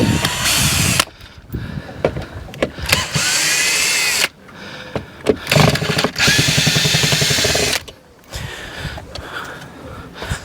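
Power drill backing black screws out of timber while finishing a garden shed, in repeated loud whirring bursts separated by short pauses, close to the microphone.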